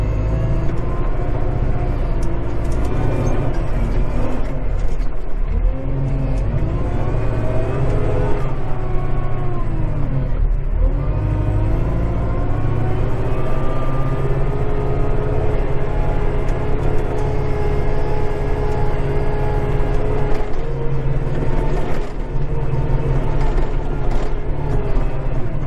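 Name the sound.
Kubota 5740 tractor engine running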